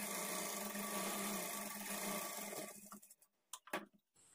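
A sewing machine runs steadily while stitching a kinari edge onto blouse fabric, a close, even whir that stops after a few seconds, followed by a few scattered clicks and knocks.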